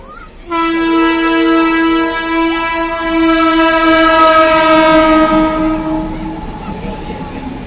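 At a railway level crossing, a train horn blares loudly and steadily for several seconds as the train rolls past nearby, rumbling wheels continuing after the horn fades.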